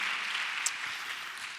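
Church congregation applauding at an evening worship and praise conference, a steady, dense wash of clapping that fills the whole moment with a faint voice underneath.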